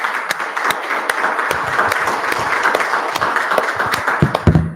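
Lively applause from a congregation at a spiritual living centre, many hands clapping loudly and continuously with sharp individual claps standing out, and a brief voice near the end.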